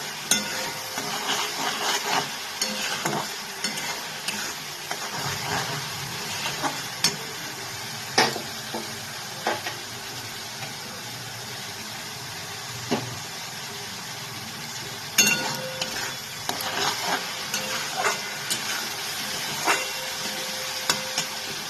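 Onions fry in oil with salt and turmeric for a fish curry, sizzling steadily while a utensil stirs and scrapes the pan.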